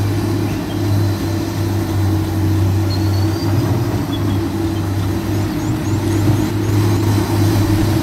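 Steady low engine hum from an FXZ 270 dump truck in Farming Simulator 19, a constant droning drone with faint mechanical noise, loud and unbroken throughout.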